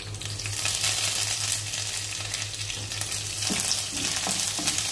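Curry leaves and fenugreek seeds sizzling in kadhi for kadhi pakora, a continuous loud frying hiss with crackly bursts over a low steady hum, no voices.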